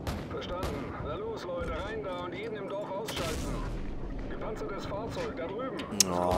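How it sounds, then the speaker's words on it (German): Call of Duty 4 Modern Warfare combat erupts with booming gunfire and a 40 mm grenade launcher shot, heavy reports and explosions ringing out under constant game voices and background chatter. "Dann geben wir da den 40 mm ab."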